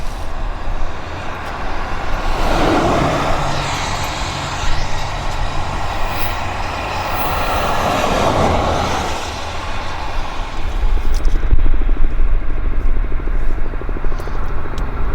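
Large military transport or tanker aircraft engines at an airfield, a loud continuous jet roar that swells and rises as the throttles come up for taxi, heard at a distance with steady broadband rumble.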